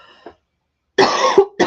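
A woman coughs at close range: a brief throat sound, then after a pause a harsh double cough with a short break between bursts.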